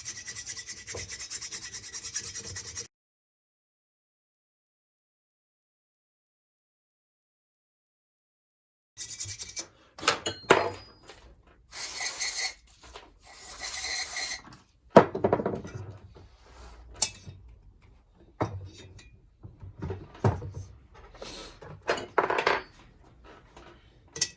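Valves being lapped into the head of a Harley Flathead engine during reassembly, gritty rubbing and rasping strokes in close bursts with a few metallic clinks, after a stretch of silence.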